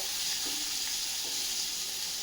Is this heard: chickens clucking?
no